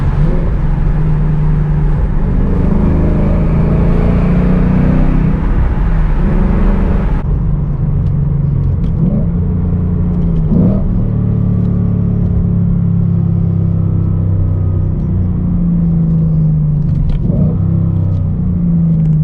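A Ford Mustang GT engine rumbles steadily from inside the car while driving, with a drop in tone partway through as it downshifts, loud and continuous, with no talk.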